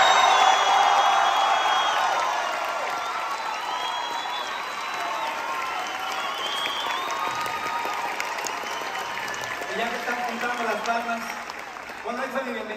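Sustained applause from a large theater audience at a musical premiere, with scattered whoops, loud at first then settling into a steady clapping wash, with voices rising near the end.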